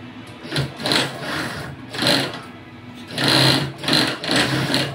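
A sewing machine stitches a DepEd school-uniform blouse in quick bursts, its motor whirring up and pausing several times, close and loud with no talk over it.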